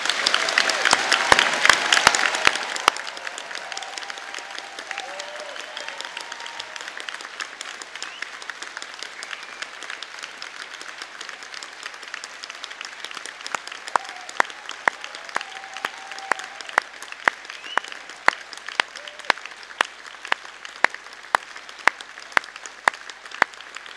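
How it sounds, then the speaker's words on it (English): Applause for graduates at an Open University degree ceremony in Harrogate, beginning as a loud dense burst of many hands, then thinning into scattered, distinct individual claps that keep spiking sharply and sparsely until the end. "let's start off today's ceremony by giving all of our amazing graduates one huge round of applause"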